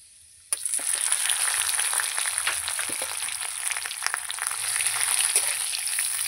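Hilsa fish heads dropped into hot oil for a bottle gourd curry, bursting into a loud, continuous sizzle after a brief quiet moment, crackling and spitting steadily throughout.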